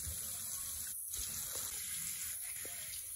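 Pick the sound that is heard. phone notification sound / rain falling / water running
water running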